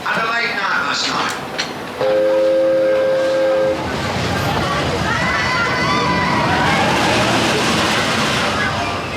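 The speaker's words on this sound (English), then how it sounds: "the Glasgow train doesn't stop at this station anyway" A Glasgow-bound train passes through a station, with a steady roar of wheels and carriages building across the clip. Around the two-to-four-second mark a sustained horn tone sounds, and people are talking throughout.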